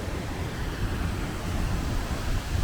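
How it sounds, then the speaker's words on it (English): Waterfall in Iceland heard from behind the falling water, a dense, steady roar of rushing spray that fills the whole scene without a break. "This is only the second time I've been behind the waterfall."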